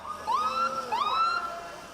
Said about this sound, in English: Sirens of support for Eastern Health paramedics as they march this afternoon